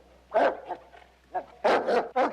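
A dog barks nearby in two loud clusters, a single sharp bark and then a rapid triple burst, with a faint whine between them.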